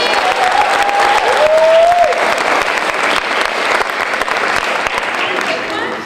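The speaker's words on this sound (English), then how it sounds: "Applaud the poet!" A high school poetry slam audience applauds the poet loudly and steadily, dense crowd clapping with a brief whistle that holds for the whole stretch.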